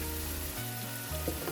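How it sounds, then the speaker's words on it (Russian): Pepper fries in a pan with a soft, steady sizzle and faint crackle, quiet and close, with a few low stirring or cookware sounds. "буквально 2-3 минутки обжарю перец, тоже слишком долго жарить не нужно"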